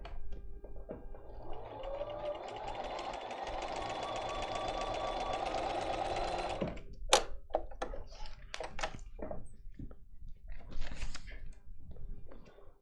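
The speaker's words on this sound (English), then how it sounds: "So we're going to quickly just take this to our machine, and I'm going to sew it." A sewing machine stitches fabric for about five seconds in a steady, close mechanical hum with a rapid needle rhythm. It stops, and then come scattered handling clicks and thumps at a quilting workshop.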